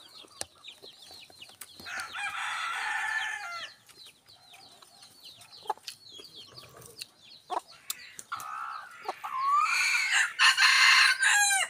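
A rooster crows outdoors, with several loud, drawn-out crowing calls broken up by softer clucks, quieter gaps and a few sharp clicks, the final crow the strongest and closest.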